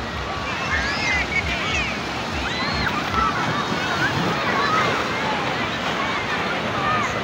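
Waves roll onto the beach at Babah Kuala in Lampuuk, Aceh Besar, making a continuous loud wash of surf mixed with wind noise against the microphone.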